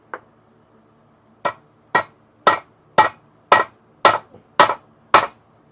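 Hammer blows on a workbench while assembling RG-393 coaxial cable, a single tap followed by eight sharp, evenly spaced strikes about half a second apart, close and loud with no talking.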